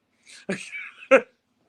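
A single close sneeze, short and sharp, set in an otherwise quiet moment.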